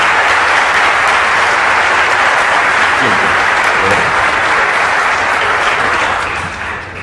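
Sustained, loud applause from a conference audience at CADE 2016 fills the whole stretch, dense and steady, easing slightly toward the end with no voices rising above it.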